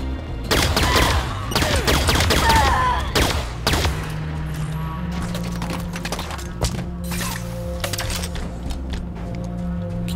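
Gunfire rattles in the video game Halo 5 Guardians, with dense rapid bursts of automatic shots up front that thin to sporadic cracks and distant pops over a low droning hum.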